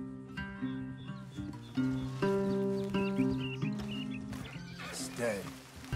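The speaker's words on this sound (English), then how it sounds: "Leave the horses in the trees there." A horse whinnies and snorts under overlapping speech in the video game Red Dead Redemption 2, its calls rising and falling over a few seconds with faint hoof and movement sounds.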